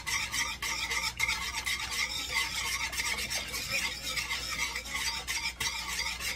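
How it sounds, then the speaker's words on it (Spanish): A coconut milk and cornstarch mixture stirred in a pot, giving a soft, steady scraping and swishing with a few sharper clicks of the utensil against the pot, close and quiet, with no talking. "Y lo vamos a remover todo."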